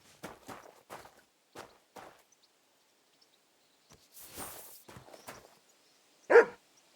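A dog in the video game Kingdom Come Deliverance II, heard while near a mill: scattered soft footsteps and faint thuds, then a single sharp, close bark near the end, otherwise quiet.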